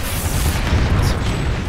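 A deep, rumbling explosion in a multiplayer shooter game, a loud, heavy boom that fills the short moment with a low, sustained roar.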